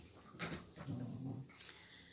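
A pet dog at bedtime makes a few short, soft whimpers and whining sounds, close by and fairly quiet, with brief pauses between them.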